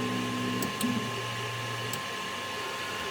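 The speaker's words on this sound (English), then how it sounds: "So the printer's now homing," A Creality CR-200B 3D printer homes its print head, giving a steady motorised whine with stepper tones that shift pitch briefly and then fall quieter after about two seconds, heard up close with no talking.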